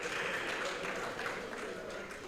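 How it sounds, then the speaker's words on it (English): A conference audience at an economic outlook and CEO forum breaks into a brief, dense burst of applause, an even hiss of many hands clapping together without voices. "I think we should give him another round of applause."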